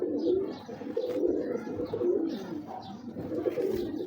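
Pigeons cooing on a rooftop loft, repeated soft, low rolling coos in steady succession at close range, with faint chirps scattered above and no talking.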